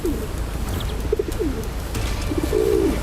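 A pigeon-like bird coos several times in short soft phrases over a steady outdoor hiss in the Himalayas, the calls moderately close and clear with no talking.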